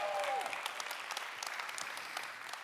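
An audience applauds at a political event, a dense, steady clapping that stays moderately loud and fades only slightly, with a brief voice at the very start.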